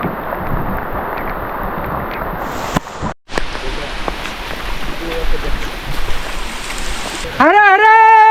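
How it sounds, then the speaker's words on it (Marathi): Heavy rain pours steadily through dense forest on the Bhimashankar trek, a loud, continuous broadband hiss with a brief dropout near the middle, ending with people chanting loudly over the downpour. "खूपच जोराचा पाऊस सुरू झाला आता."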